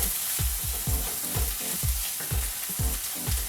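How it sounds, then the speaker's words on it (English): Pav bhaji ingredients with red food colour sizzling in a pan while a spoon stirs and scrapes in a steady rhythm of regular strokes, close and continuous. "Alright, so let's mix these ingredients here."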